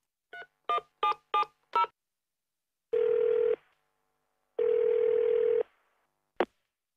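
An office telephone is dialed to reach a supplier's accounting department: five quick keypad tones, then two long steady ringback tones separated by silence, and a brief click as the line picks up.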